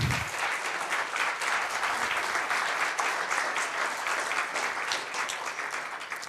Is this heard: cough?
no